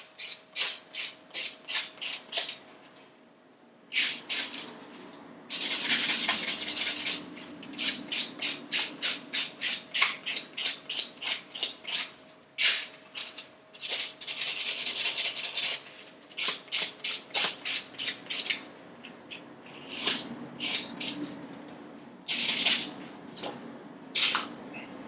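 A buffer block rubs back and forth over a silk wrap nail repairing a split, giving close, steady bursts of rapid scratchy strokes with brief pauses between sets.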